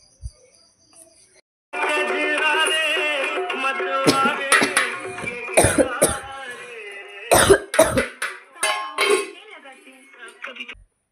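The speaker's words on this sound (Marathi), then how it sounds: "मला खोकला खूप असल्यामुळे मला इतका खक्का खक्का करून राहिला भयानक" Several harsh, abrupt coughs come in bursts over a steady tonal hum, with faint clinks of dishes in between.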